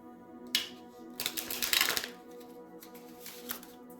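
A deck of tarot cards being shuffled by hand, crisp riffling bursts in short separate flurries with quiet gaps between, close and clear.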